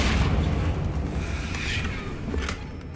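A Confringo fire spell bursts in Hogwarts Legacy with a loud, sustained low boom, a rumbling explosion that fills the whole moment and fades slightly toward the end.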